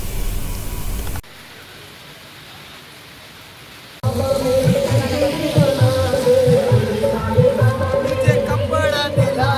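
Heavy monsoon rain falls in the hill station of Saputara, a dense hiss of downpour that drops to a quieter wash for a few seconds and then returns fuller, with splashes and a low rumble of runoff.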